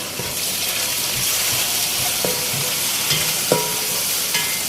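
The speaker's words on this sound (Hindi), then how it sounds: "इसको भी प्याज के साथ हल्का सा फ्राई करेंगे" Steady frying hiss of onions with ginger-garlic paste and spices, with occasional scrapes and clinks of a spoon stirring in a pan, no voices.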